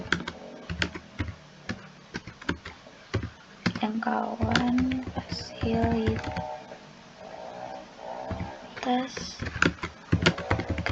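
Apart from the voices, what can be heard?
typing on a computer keyboard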